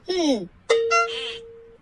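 A two-tone doorbell chime rings once in a home, a bright descending ding followed by a held tone, sounding close and clear after a brief voice-like sound.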